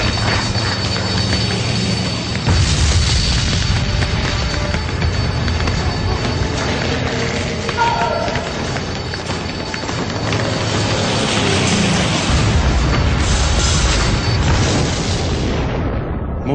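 Heavy booming explosions from the Japanese attack on Pearl Harbor roar continuously and loudly, a dense rumbling wall of blasts and debris with no voices heard.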